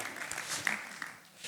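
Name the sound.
audience applause for Marvin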